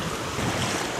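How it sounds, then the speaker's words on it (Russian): Strong hurricane wind sweeps across a lake during a fishing trip, a dense steady roar buffeting the microphone with no pauses, loud and close. "Ветер очень сильный."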